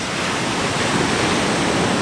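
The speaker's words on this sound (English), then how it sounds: "Just look at these waves, it's just stunning." Ocean waves breaking on Luskentyre Beach on the Isle of Harris, a dense continuous roar of surf filling the whole stretch, loud and close with no voices.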